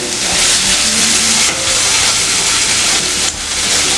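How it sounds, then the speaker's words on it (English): Finely cubed homemade paneer sautéing in a pan, a loud, steady broadband sizzle close by with brief dips in intensity, no voices. "just saute it for a few seconds, like until you see a mild golden color on the paneer"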